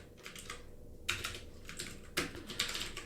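Keystrokes on a computer keyboard as code is typed for a Spring Boot project, coming in short bursts of quick clicks with brief pauses between them, close by and moderately loud with no talking.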